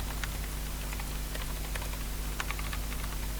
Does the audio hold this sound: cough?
no